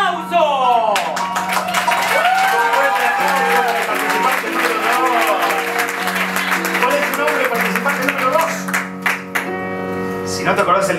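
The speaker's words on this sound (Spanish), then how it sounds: "fuerte el aplauso." A theater audience applauds loudly and steadily, with music and a voice sounding over the clapping before it thins toward the end.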